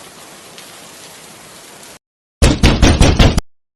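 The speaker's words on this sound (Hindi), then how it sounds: "क्या बताऊं रामू, इतनी तेज बारिश में हम मुसीबत में आ गए हैं।" Heavy rain falls in a steady, dense hiss for about two seconds, cut off by silence and then a short burst of loud, rapid knocking or rattling.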